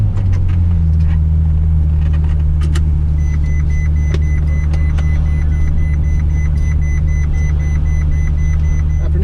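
A Ferrari F12 rolls along and pulls over: a steady, deep engine drone and road rumble hold loud and close throughout, with a few faint clicks and a thin electronic tone above, and nobody speaking.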